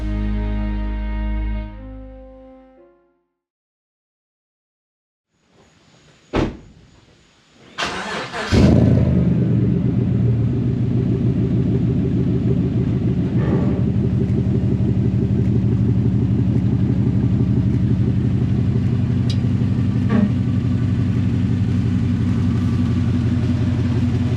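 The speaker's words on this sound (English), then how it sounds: "Alright guys, we're just about to drive this truck" A Chevy Silverado truck engine cranks and catches with a few loud bangs, then settles into a steady, deep, close idle rumble that runs to the end, with a faint speaking voice fading out beforehand.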